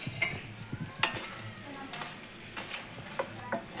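Dried red chillies frying in two tablespoons of hot oil, stirred with a few scraping clinks against the pan over a low, steady sizzle.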